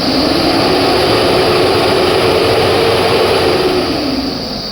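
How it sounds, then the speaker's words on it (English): Engine running steadily and loudly at a highway scene where a goods truck has overturned, a continuous broadband rumble with a droning tone, no talk over it. "You can hear the sound of the engine."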